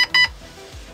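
A GATE Aster V2 airsoft controller gives three short electronic beeps when a battery is connected. The first and second come in quick succession and the third is fainter, each clear and close, followed by quiet low thumps.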